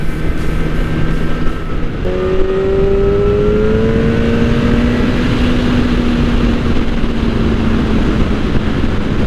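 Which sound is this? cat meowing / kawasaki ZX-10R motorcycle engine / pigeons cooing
kawasaki ZX-10R motorcycle engine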